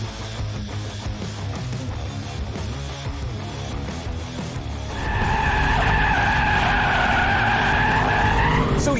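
A Mercedes-AMG E63S wagon in drift mode skids with a steady engine roar. About halfway through, a loud sustained tire squeal rises over the engine and holds to the end.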